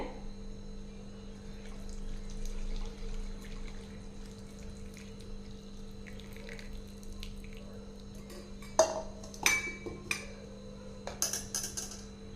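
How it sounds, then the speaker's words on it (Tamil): Boiled fenugreek masala tea being strained: a steady low hum runs throughout, then from about nine seconds clinks of a steel strainer and vessel and a splashing pour stand out close by, with no speech. "இப்போ நம்ம டீ வந்து வடிகட்டிக்கலாங்க"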